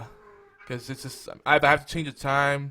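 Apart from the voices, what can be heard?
domestic cat meowing in the background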